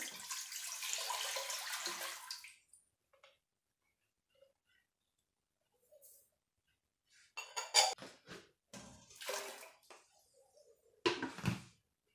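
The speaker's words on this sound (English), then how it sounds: "Now in the pot, I'm going to pour in water." Water poured into a cooking pot while making egusi pepper soup, a steady rushing pour lasting about two seconds, then silence and a few scattered clatters of the pot and utensils nearby.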